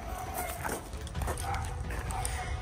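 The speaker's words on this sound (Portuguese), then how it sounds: "tem um cachorro muito assustado. Será que ele viu o coelho e tá latindo?" A frightened dog barks and whimpers a few times at moderate distance, short irregular yelps over a noisy background with faint voices.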